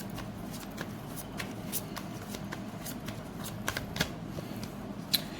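Tarot cards are shuffled close up in a quiet room, a continuous soft riffling broken by sharper flicks and taps as the deck is worked through the hands.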